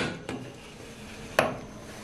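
A lid is set onto a pressure cooker holding meat for shami kabab, giving two short metallic clanks about a second apart, the second louder and sharper, with no talking.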